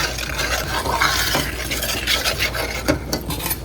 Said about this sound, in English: I'm just going to keep stirring and add stock as I need it.